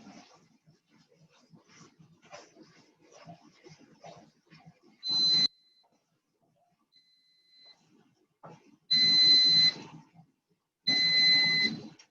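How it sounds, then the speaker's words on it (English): An air fryer beeps as it finishes cooking in a home kitchen, giving three loud electronic tones, one short and two longer, separated by quiet stirring noises. "That was my air fryer. I just finished it."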